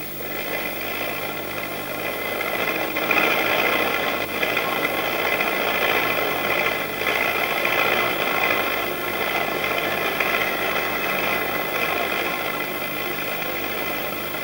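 A 1970s logging skidder tractor engine runs at a steady, even drone, while tree-length logs are winched by cable onto the tractor's shield. The engine holds a constant mid-pitched hum throughout with no talking.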